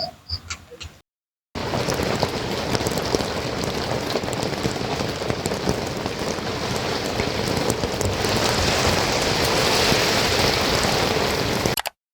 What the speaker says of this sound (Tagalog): Sobrang lakas ng ulan kagabi